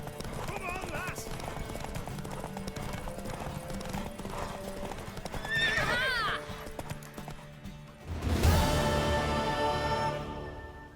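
A horse in The Witcher 3 clip-clops at a steady gallop through most of the stretch, a mix of game music and ambience running beneath, then a loud burst of a neigh or snort near the end.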